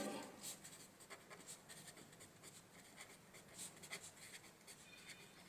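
Marker or chalk writing on a board during a statistics lesson, faint scratchy strokes in short bursts against quiet room noise.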